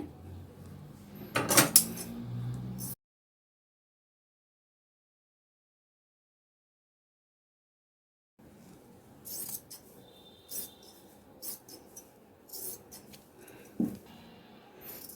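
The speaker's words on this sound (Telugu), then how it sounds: "మనకి ఈ మిగిలిన పీస్ అంతా కట్ చేసేసుకుందామండి" Scissors snip through leftover blouse lining fabric in small, close clicks and metallic ticks, with a burst of handling noise, a long silent gap, then several more quiet cuts.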